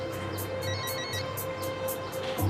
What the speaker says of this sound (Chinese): 你先走吧，接个电话。